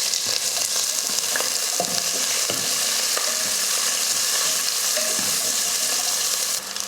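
Thin-sliced onion sizzling steadily in hot oil with cardamom, cloves and bay leaves for chicken biryani, a loud continuous hiss with occasional stirring clicks throughout.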